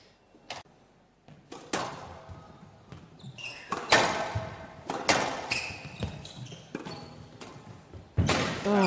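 Squash ball strikes during a professional tournament match: a string of sharp, echoing thwacks and thuds off racket, walls and floor in an indoor court, varying in loudness, with faint crowd noise between them.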